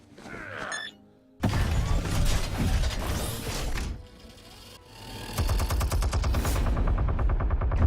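Rapid gunfire from thugs in the Batman Telltale series rattles loudly in sustained bursts with crashing impacts, ending in a fast, steady stutter of machine-gun fire.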